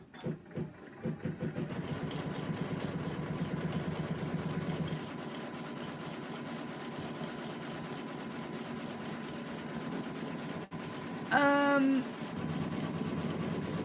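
Janome Continental 17 sewing machine embroidering in a giant 12x19 hoop, a steady whirring motor with fast stitching that runs on after a few short bursts, with a brief sharp chirp near the end.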